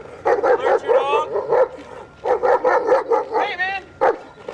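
A dog barks repeatedly in quick bursts, close and loud, with a few higher yelping barks mixed in and short pauses between volleys.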